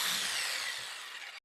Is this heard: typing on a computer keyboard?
no